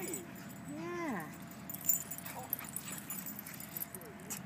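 A small dog lets out a few high whining yips near the start, followed by quieter jangling and rustling in the background with low voices around.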